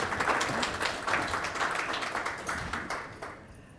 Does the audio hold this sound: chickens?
no